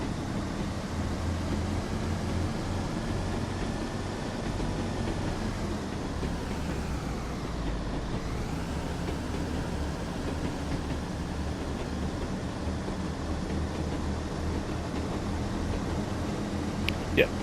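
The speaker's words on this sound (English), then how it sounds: "I'll let you listen to the gear changes." Class 101 early diesel multiple unit in Train Sim World 3 running under power, a steady low drone with one clear gear-change dip and pitch swoop midway, continuous and fairly quiet throughout.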